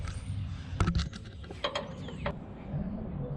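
A 5/8 wrench works on a bolt under a van being fitted with a rear lift, producing a few faint metallic clicks and ratcheting ticks in a quiet space.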